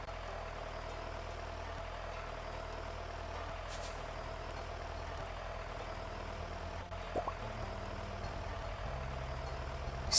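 A tractor engine idles in the farming game Stardew Valley, a low steady rumble held at an even level with a brief hissing burst near the middle and a small rise at the very end.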